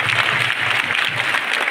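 An audience at an RCC event in India welcoming Dr. Vitthal Lahane with applause, a dense steady wash of many hands clapping together, loud and continuous for the whole stretch with no talk over it.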